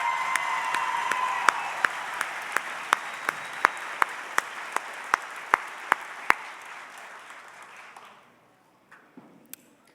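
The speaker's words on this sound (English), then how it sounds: "So let's give them a round of applause, please." A crowd applauds at a 2025 spring graduation ceremony, with dense sustained clapping and a few sharp, close claps standing out. The applause fades over about eight seconds, leaving scattered claps.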